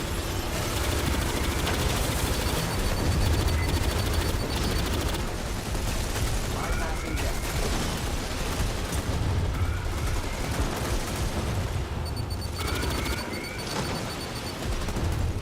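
Sustained rapid fire from automated turrets in the video game Aliens: Fireteam Elite 2, loud dense chattering bursts that continue throughout with explosions and action noise mixed in.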